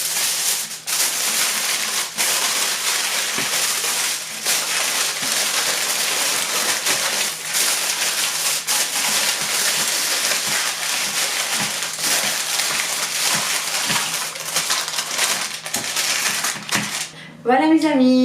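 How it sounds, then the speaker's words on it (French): Aluminium foil crinkles and rustles over roast chickens stuffed with rice, a loud, dense, continuous crackling close by that runs almost unbroken, with a brief voice at the very end. "Et après, je vais rajouter le papier à l'aluminium."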